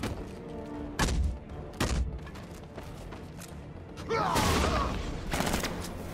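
Video game gunfire in Batman Arkham Knight comes in loud, sharp bursts, with two separate shots and then a longer rattling volley with clanks, while a person talks in between.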